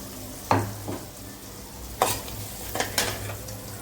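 Coconut poriyal is stir-fried in a pan over a steady sizzle, with a few sharp scrapes and clinks of a spoon against the metal.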